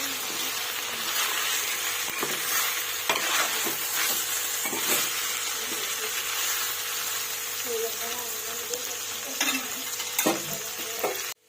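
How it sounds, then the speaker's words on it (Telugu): Green chilies and curry leaves are stirred into dry chicken fry in a pan, loud continuous sizzling with repeated spoon scrapes and clacks against the pan, close up, with a voice speaking over it. "ఒకసారి ఇలా బాగా కలిపేస్తున్నాము."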